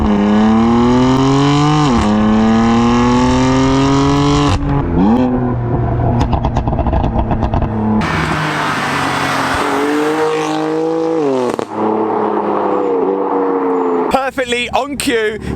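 A BMW M4 with an aftermarket exhaust revs hard and loud up through the gears, its engine note climbing and dropping with each shift, harsh crackles between, while someone talks.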